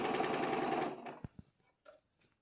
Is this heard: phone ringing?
no